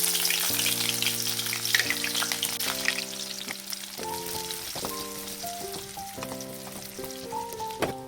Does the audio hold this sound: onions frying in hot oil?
yes